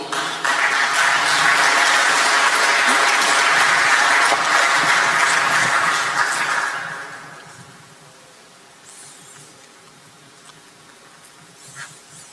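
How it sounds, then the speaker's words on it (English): Loud, dense applause from a crowd at a prize-giving ceremony lasts several seconds, then fades quickly into quiet room noise with a few scattered claps. "Let's give him a big round of applause."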